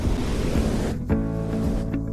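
Ocean surf at a beach on the Jandía Peninsula, Fuerteventura, a steady loud wash of breaking waves with a gust-like roar that drops partway through, then continues as a rougher churn with some wind noise.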